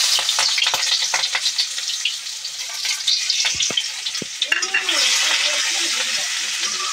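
Onions fry in hot oil for a fish curry, hissing loudly while a utensil stirs and scrapes the pan in uneven knocks; a voice briefly speaks over the sizzle near the end.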